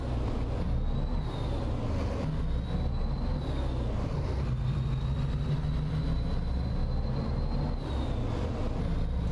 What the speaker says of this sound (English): we're running the SCS replacement engine mod from Robinicus. So that is where the engine sounds are coming from